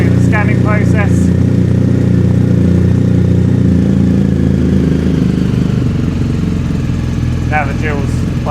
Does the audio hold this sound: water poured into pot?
no